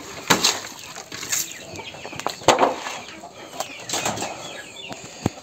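Chickens in a village coop flap their wings in short, fairly faint bursts, with occasional soft clucks and rustling in between.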